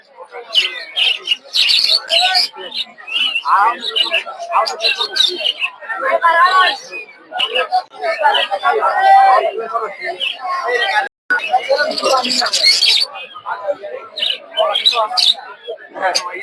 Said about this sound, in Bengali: দেখতে পাচ্ছেন একটা ময়না পাখি